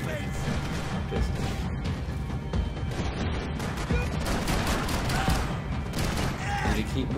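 Gunfire in the Max Payne 3 video game during a rooftop shootout: a dense, continuous barrage of shots and crashing impacts fills the whole stretch, loud and busy, with a voice talking faintly under it.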